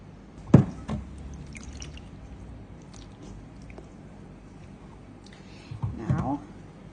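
100 grams of sourdough starter is added to 500 grams of water in a bowl. A sharp wet plop comes near the start and a squishy, splashy slop near the end, with a quiet background between.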